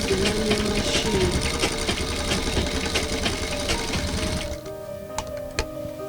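A manual sewing machine stitching fabric, a fast, steady mechanical clatter of needle strokes close by that stops partway, followed by a few isolated clicks and taps.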